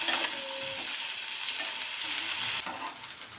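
Cauliflower florets and potatoes frying in a little oil, a soft, steady sizzle with occasional faint stirring clatter, fairly quiet and without talk.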